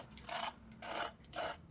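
Crispy fried eggplant-and-egg snack crunches in three distinct close bites, each a short dry crackling burst separated by brief pauses.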